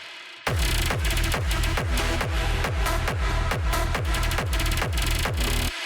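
A dense, buzzy synth arpeggio pulses in rapid repeating notes over a driving bigroom techno beat, its arpeggiator rate automated up and down so the pattern shifts speed as it plays.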